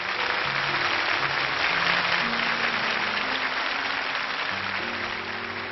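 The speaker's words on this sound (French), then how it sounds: "Applaudissez-les très fort." An audience at a 1998 French televised variety show applauds performers with steady, dense clapping that fills the room, while sustained musical tones play underneath throughout.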